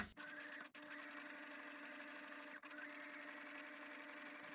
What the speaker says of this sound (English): I'm going to sew with a 1 centimeter seam allowance